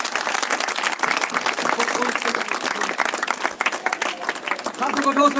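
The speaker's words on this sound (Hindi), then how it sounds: "ताली भी हो यहोवा के लिए सबसे।" Congregation at a church prayer and deliverance service claps and applauds continuously, a dense sustained wash of many hands with crowd noise, a voice rising near the end.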